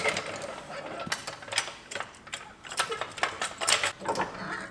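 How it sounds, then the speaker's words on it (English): A jack raising a campervan, heard as a close, rapid series of ratcheting clicks and metallic ticks with uneven rhythm over several seconds. "obviously jack it up"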